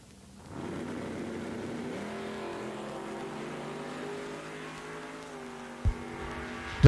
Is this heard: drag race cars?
yes